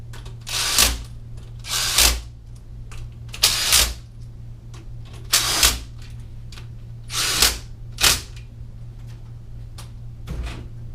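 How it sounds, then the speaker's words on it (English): A torque wrench tightens the transmission case bolts on a Yamaha YXZ 1000R to 7 foot-pounds, making a series of short, sharp clicking bursts at a roughly even pace over a steady background hum, close by and without talking. "it's a good time to get your torque wrench out. These case bolts get torqued to 7 foot-pounds"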